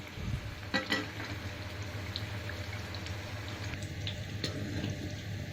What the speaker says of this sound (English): Vada is getting fried.